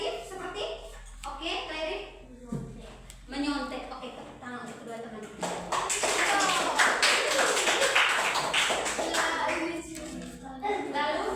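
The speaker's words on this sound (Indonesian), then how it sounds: "Tepuk tangan untuk kedua teman." Children clap together in a classroom during a civics lesson, a burst of many hands that grows louder and denser and follows a teacher's spoken prompt.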